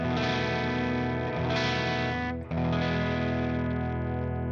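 An instrument played through a Universal Audio UAFX amplifier pedal (Dream '65, Ruby '63 or Woodrow '55) rings out as loud, sustained driven chords with a brief dip and re-strike partway through, thick with distortion and chorus-like shimmer.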